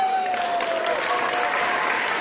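An audience at a school carnival applauds: steady, dense clapping throughout, fairly loud and continuous, with no other sounds standing out.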